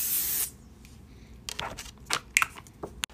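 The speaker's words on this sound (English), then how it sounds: "I'm gonna spray some heat protectant." A single strong hiss of heat protectant spray on hair opens the sound, followed by soft crinkles, taps and handling noises as the can and hair are moved, all close and with nobody talking.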